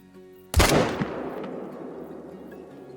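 A single loud rifle shot is fired at a large bull deer in the hunting game Call of the Wild: one sharp close blast followed by a long, fading rumble of echo.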